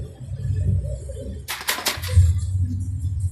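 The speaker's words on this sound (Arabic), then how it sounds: "ده فرد حمام لسه سنه صغير" Low, soft cooing of a young pigeon comes in murmuring bursts, broken midway by a brief burst of rustling or flapping noise.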